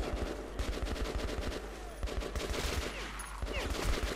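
Gunfire in the shooter Metro 2033 Redux: rapid automatic bursts of shots rattle in quick rhythmic volleys, fairly close and sustained, with the clatter of combat behind them.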